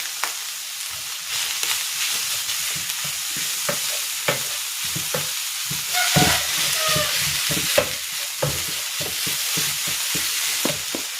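Grated squash and carrots are stir-fried in a pan, with steady close sizzling broken by repeated scraping stirs and a few louder clatters, and no voices.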